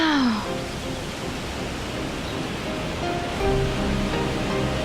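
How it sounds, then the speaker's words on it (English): Steady rushing water from a waterfall and a running river in Shenmue 2, a broad continuous roar that swells slightly near the end, with faint tonal game music threading through. "We heard this waterfall."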